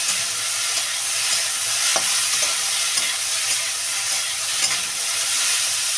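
Fish head and kohlrabi curry, just salted, is stirred in a hot pan, giving a continuous close sizzle with scraping spoon strokes and occasional clacks, no talking.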